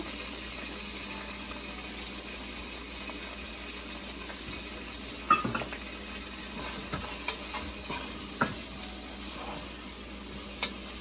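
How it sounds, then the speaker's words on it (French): Smoked fish being mixed with spices in a pot for fubwa (afang), quiet stirring with a faint background hiss and a few soft knocks and scrapes of the spoon. "On va mélanger tout ça."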